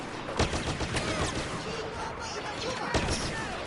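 Gunfire in the Star Wars Battlefront video game, a few sharp blaster-like shots cracking out amid a busy wash of battle noise, with a voice talking over it.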